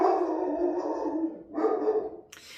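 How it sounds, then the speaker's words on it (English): Dogs bark outdoors, giving two long, drawn-out, howl-like barks at moderate distance with a short gap between them, followed by a brief sharp noise. "we're gonna have barking dogs here."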